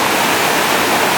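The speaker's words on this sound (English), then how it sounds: "This is where the waterfall" A waterfall in Kenya roars as a steady, loud, broadband rush of falling water, dense and unbroken throughout with no voices.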